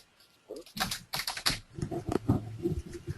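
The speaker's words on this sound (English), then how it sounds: "Stop working on your keyboard." Clicking keystrokes from a computer keyboard during an online webinar, close and irregular, mixed with voices talking over an open microphone.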